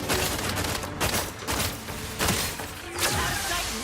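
Repeated bursts of gunfire from The Outer Worlds 2 video game, several loud, dense volleys about half a second to a second apart, with whooshes and debris crackle filling the gaps and no talk over them.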